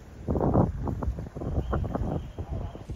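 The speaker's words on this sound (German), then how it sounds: "Gott sei Dank ist der Wind im Rücken." Blustery wind on a mountain bike ride in the mountains buffets the microphone in uneven rumbling gusts, loud and close throughout.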